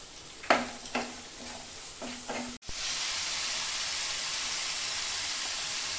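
Spice masala for jackfruit kofta curry fries in a pan: a few scraping stirs at first, then a sudden burst of loud, steady sizzling once liquid hits the hot masala, holding broad and constant to the end.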